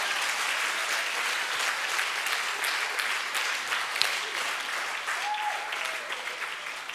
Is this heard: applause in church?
yes